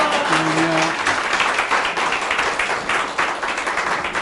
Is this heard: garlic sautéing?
no